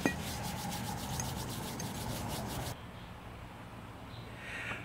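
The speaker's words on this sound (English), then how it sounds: "And just polishing it up. I'm just using toothpaste" Steady rubbing of a cast bronze axe head being polished with toothpaste, a close, continuous scratchy friction that softens partway through and continues quietly, with no speech.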